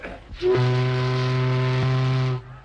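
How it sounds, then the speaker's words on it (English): A ship's steam whistle gives one loud, sustained blast of about two seconds, steady and close, alone with no talk, in a 1936 film. "this works the whistle, you see."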